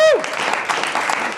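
Studio audience applauding and cheering for Randy the Puppet on a talk show set, a brief burst of clapping that swells right after a voice trails off and carries steadily through the rest.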